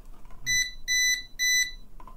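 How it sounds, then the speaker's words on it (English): A UNI-T AC voltage detector gives three evenly spaced electronic beeps, each a sharp high-pitched pulsing tone lasting about half a second, close and clear against a quiet room. "It's a different beep sound."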